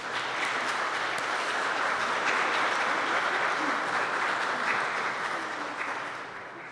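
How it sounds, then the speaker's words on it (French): A church congregation applauds the choir during Sunday Mass, a broad steady wash of many hands clapping that holds for several seconds and then fades slightly toward the end, with no voices over it. "Applaudissons."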